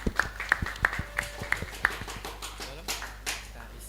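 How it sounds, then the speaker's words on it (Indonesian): A small audience at a children's speech competition claps in a quick, even rhythm of sharp hand claps, which thin out and fade after a couple of seconds. "Kita beri tepuk tangan yang meriah."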